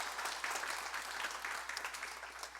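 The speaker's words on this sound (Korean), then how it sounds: "환영의 박수로 축하하겠습니다" A church congregation claps in welcome during a Sunday service, a dense, even patter of many hands from a sizeable crowd, sustained and moderately loud in a reverberant hall.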